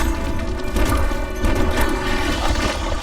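An explosion goes off in Castle Craft, a Minecraft-like block-building game, as a loud, continuous rumbling boom with dense crashing texture that fills the whole stretch without pause or talk.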